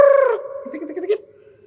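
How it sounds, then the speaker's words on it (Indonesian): A chicken crows once, loud and close, a single bright call lasting just over a second that trails off into a rougher tail. "Ayam."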